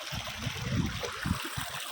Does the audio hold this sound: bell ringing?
no